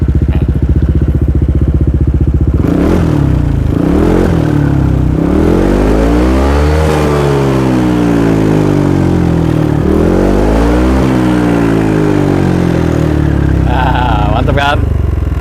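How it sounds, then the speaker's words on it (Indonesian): A Honda ADV 160 scooter with a Kenshi Hanzo bass exhaust is revved repeatedly near the microphone, the engine note rising and falling in several throttle blips after a steady idle, with someone talking over parts of it. "kita cek sound dulu knalpot Kenshi Hanzo di ADV 160."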